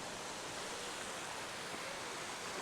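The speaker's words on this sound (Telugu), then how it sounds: "ఇది కూడా ఇంకొకటి వాటర్ ఫాల్ చూడండి" Waterfall along the Kedarnath trekking route in cold, rainy mountain weather, a faint distant steady rush of falling water without breaks or voices.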